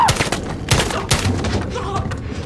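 Rapid close gunfire while storming a room in Call of Duty Modern Warfare, dense overlapping shots in a busy continuous burst, with faint voices underneath.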